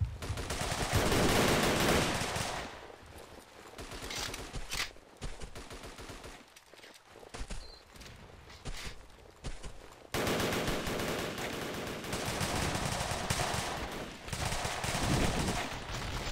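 Bursts of automatic gunfire from a video game shooter, loud and dense at the start, thinning into scattered shots and quieter gaps midway, then rising again into sustained rapid firing near the end.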